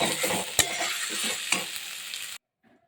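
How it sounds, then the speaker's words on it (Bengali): Hinche (helencha) greens stirred in a kadai, a steady close sizzle with scraping spatula strokes and two sharper knocks, then an abrupt cut to near silence with a faint voice trace at the end. "ক্রমাগত নাড়তে থাকবেন কড়াতে একটু একটু লেগে যাবে অসুবিধে নেই"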